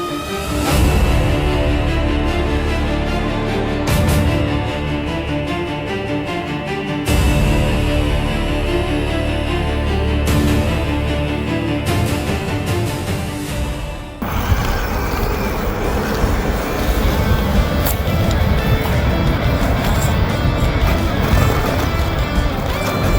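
An Axial SCX10.3 RC crawler with a 1987 Toyota SR5 body crawls over rocks outdoors, its electric motor whining steadily with scrapes and knocks as the tires grip stone, loud and close throughout.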